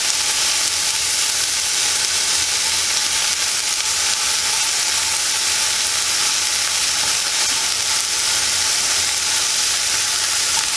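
Whisked eggs for an omelet frying in a pan over medium heat, a steady, even sizzle and hiss held close and continuous throughout, with no voices.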